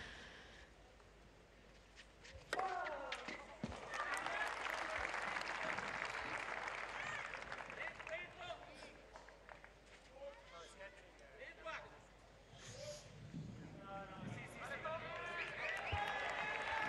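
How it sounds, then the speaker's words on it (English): Spectators at a tennis match in Quito, Ecuador break into applause, clapping swelling sharply and fading, then rising again, with a commentator's voice talking over it. "Thomaz Bellucci applauded for that shot."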